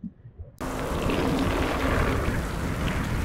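Rain falls during a solo bikepacking trip through the Alps, coming in abruptly after a brief quiet moment and then continuing as a loud, dense, steady hiss with a low rumble beneath.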